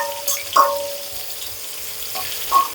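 Chopped onion sizzles in hot oil with black cumin seeds for a potato and pointed gourd curry, a soft, steady frying hiss with a few brief louder spits, close by.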